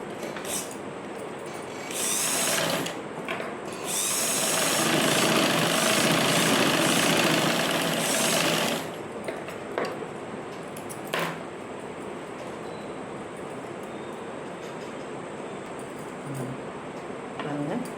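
Sewing machine stitching a back-open blouse, a fairly close mechanical whir that runs in bursts, louder for several seconds in the middle, then settles to a quieter steady hum.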